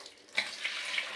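A liquid pesticide mixture for chilli plants is poured into a container, a brief, faint splashing trickle that lasts about a second.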